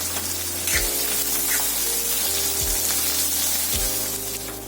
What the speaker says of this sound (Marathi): आता ते गोल्डन ब्राऊन होईपर्यंत आपल्याला परतत राहायचंय।